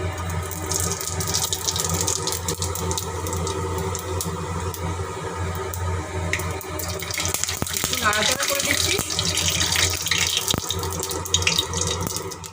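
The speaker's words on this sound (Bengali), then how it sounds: "তেল গরম হয়ে গেছে এবারে আমি দিয়ে দিচ্ছি পাঁচ পাঁচফোড়ন" Panch phoron spices hit hot oil while jhinge posto is cooked, giving a steady crackling sizzle that grows busier partway through.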